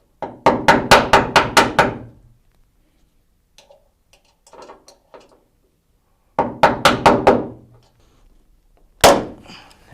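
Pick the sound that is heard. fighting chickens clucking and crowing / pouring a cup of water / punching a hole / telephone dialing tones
punching a hole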